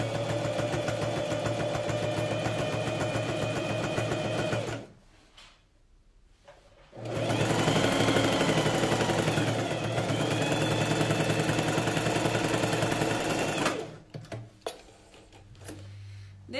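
A sewing machine stitches the side seam of a lined coat in two sustained runs of steady whirring, separated by a short pause, followed by small handling clicks at the end.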